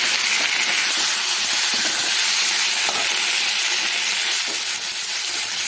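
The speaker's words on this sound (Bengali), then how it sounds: "শাকগুলো দিয়ে খুব ভালো করে নাড়াচাড়া করব।" Drumstick greens are stirred in a frying pan after chopped onion and garlic have fried, giving a loud steady sizzle and hiss with faint scraping of the spatula throughout.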